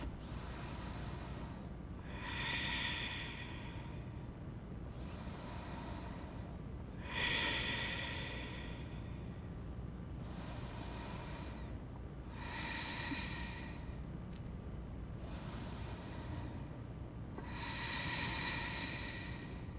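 During a seated yoga twist, slow, deep breaths come close and quiet in a regular cycle of airy inhales and exhales, roughly one every five seconds, with no speech.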